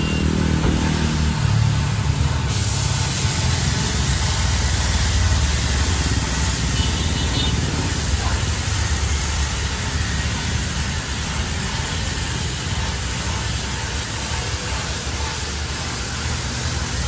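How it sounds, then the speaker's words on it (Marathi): A car being washed with a high-pressure water spray, a loud, steady broadband hiss running continuously and close with no pauses. "फायनली गाडी धुवायला टाकली. आता थोडी आता क्लीन होईल"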